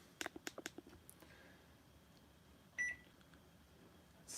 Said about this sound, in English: I set the timer for 45 minutes.